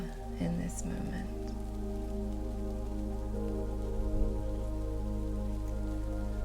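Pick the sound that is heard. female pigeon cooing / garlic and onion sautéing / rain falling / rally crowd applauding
rain falling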